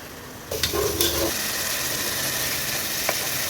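After a brief quiet start, a spice paste hits hot oil and bursts into a steady, close hiss, with a few stirring scrapes early on while it keeps frying for a hilsa and taro curry.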